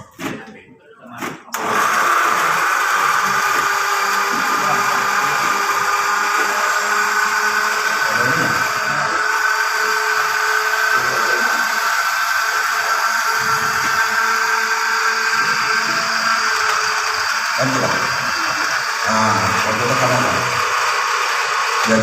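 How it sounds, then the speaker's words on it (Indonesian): A blender runs steadily for about twenty seconds, grinding ingredients for an organic plant pesticide in a homemade fertilizer setting, loud and continuous with a brief rough start and faint background voices. "blender yang digunakan untuk pestisida nabati, kalau bisa blendernya khusus pak"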